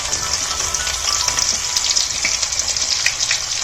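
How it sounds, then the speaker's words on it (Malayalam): Loud, continuous sizzling and crackling of sliced onions and cashews frying in hot oil for biryani garnish, with no voices. "ഗാർണിഷ് ചെയ്യാനായിട്ടുള്ള സവാള സ്ലൈസ് ചെയ്തതും കാഷ്യൂം കൂടെ ഒക്കെ ഒന്ന് വറുത്തെടുക്കുകയാണ്"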